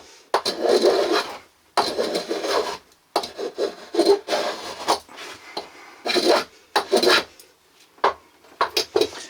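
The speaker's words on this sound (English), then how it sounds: "I'm just smoothing off the base a little bit at the moment, just doing the curves on it." A wooden tool tote base is smoothed along its curves, giving close, dry rubbing strokes in uneven bursts separated by short pauses, with no talking.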